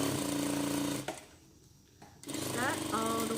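A sewing machine stitches a gathering line through fabric for a baby's African-style dress, a close rapid whirring run that pauses about a second and then resumes.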